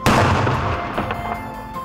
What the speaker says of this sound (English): And this is morning gunfire, a signal for everybody.